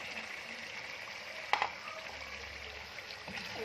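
Chicken hissing and sizzling in roasted masala for a Kerala-style chicken curry, a steady soft sizzle with one sharp clatter partway through.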